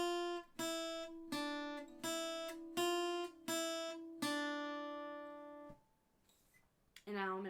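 Clean guitar plays the first two measures of a song, single plucked notes at a slow, even pace, the final note ringing out before a brief silence.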